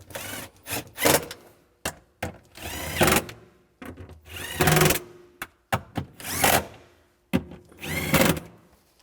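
A power tool tightens down the fuel pump module bolts on a 2007–2013 Mini Cooper in repeated close whirring bursts, several short and a few longer, separated by brief pauses.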